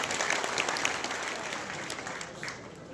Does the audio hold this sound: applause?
yes